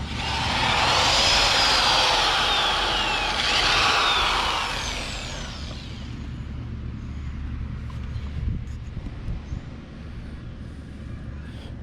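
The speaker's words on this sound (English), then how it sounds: "we're going to drill that out and put that in here" A power drill whines loudly for several seconds, drilling out a mounting clip on a Porsche Boxster 986 wind deflector, its pitch sliding as it bites, then cuts off leaving a faint background hum and light clatter.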